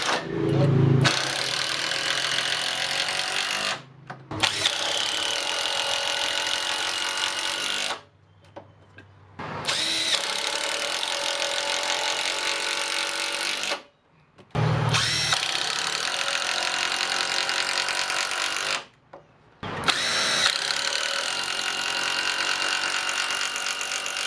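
A Makita impact driver from Japan drives screws into wood in five long, loud bursts of rapid hammering whir, each separated by a brief pause.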